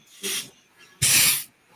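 Two short bursts from an aerosol spray can blown into a jet hole, the first brief and softer, the second longer and louder, each a sharp hiss followed by quiet.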